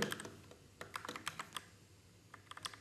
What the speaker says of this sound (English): So we are going to type error,